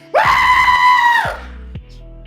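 A man imitates a drunk fan leaning out a window with a beer, screaming in celebration at the top of his lungs: one loud, sustained, high-pitched yell of over a second that falls off at the end, with nothing else around it.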